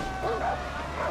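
A single dog bark or yip in the video game Far Cry 4, brief and fairly close, set against a steady in-game background hum.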